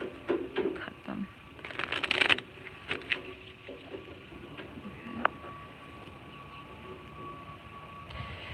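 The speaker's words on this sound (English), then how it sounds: "I'm just going to do one last shuffle." Tarot cards being shuffled and cut by hand, a burst of riffling and soft card slaps early on, then quieter handling with a faint background hum.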